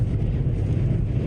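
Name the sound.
intense winds in Texas during a storm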